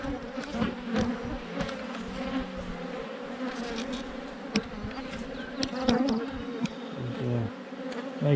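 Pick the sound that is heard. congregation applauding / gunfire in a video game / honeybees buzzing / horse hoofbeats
honeybees buzzing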